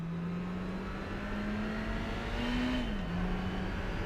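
A Mazda MX-5 engine in the Gran Turismo HD racing game holds a steady, droning rev that climbs slightly, then dips as the car shifts, continuous and moderately loud with no talking.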